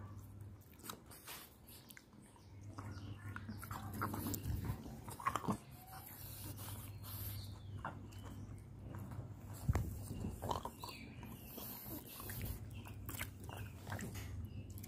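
A French bulldog chews and bites into an orange, giving close, wet, irregular crunching and squishing bites, with some faint voices in the background.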